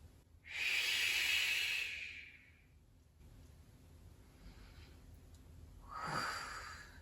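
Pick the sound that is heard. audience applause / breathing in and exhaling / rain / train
breathing in and exhaling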